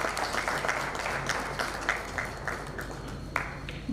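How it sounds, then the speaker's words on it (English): An audience at a legal seminar applauds during a felicitation, a steady wash of many hands clapping with a few sharper claps standing out, moderate in level and continuing throughout. "round long of applause, please"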